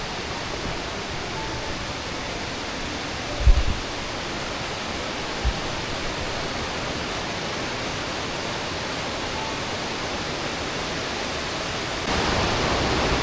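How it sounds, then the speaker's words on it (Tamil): Siruvani waterfall at Kovai Courtallam in the forested foothills roars in a dense, unbroken hiss, with two brief soft thumps early on and no voices. "இது நல்லா ஆர்ப்பரிக்கும் சிறுவாணி அருவி நன்றாக இருக்கிறது."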